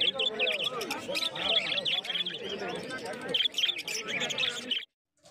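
Budgerigars chirp and twitter nonstop at the Uluberia bird market on a rainy winter day, a busy flock of shrill, overlapping calls packed close together before cutting off abruptly near the end.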